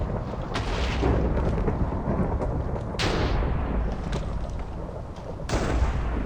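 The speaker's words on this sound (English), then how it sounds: "Blood Magic likes its lightning strike" A Minecraft Blood Magic mod lightning strike cracks loudly in a video game, with repeated thunderous booms and sharp cracks over a continuous roaring rumble.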